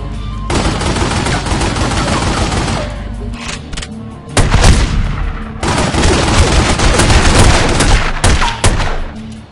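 Rapid, loud pistol and automatic gunfire from The Godfather PC game crackles in dense bursts, pausing briefly before another sustained volley.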